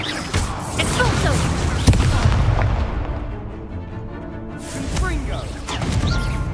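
Booming blasts from the Expulso explosion spell in Hogwarts Legacy, one sharp hit early and further crashes later, mixed with battle noise and a voice casting spells.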